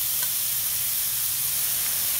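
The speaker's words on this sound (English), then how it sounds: "You can hear them sizzling already." Johnsonville sausages sizzle and fry on a cast-iron Lodge Sportsman's Grill, a steady dense crackling hiss, close and continuous with no talking.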